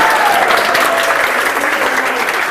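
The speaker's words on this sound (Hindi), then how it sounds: "और जावेद मियां के उस छक्के के लिए भी बहुत सारी तालियां हो" A studio audience at a Sindhi TV game show claps together in a sustained, dense round of applause, loud and close, holding steady throughout.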